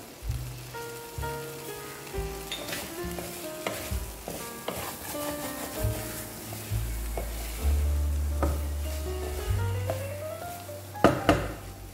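Potato and spinach fry in a pan on a low flame, with a steady sizzle and stirring scrapes heard beneath prominent background music, plus a couple of sharper knocks near the end.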